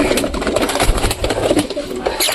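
Pigeons coo in a low, steady murmur while they are fed rice, with soft wing shuffles and a faint engine hum underneath, continuous and close.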